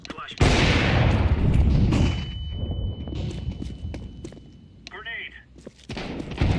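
A flashbang grenade bursts in a shooting video game with a sudden loud bang followed by a long ringing rush of noise that fades, then gunfire and footsteps as a player talks.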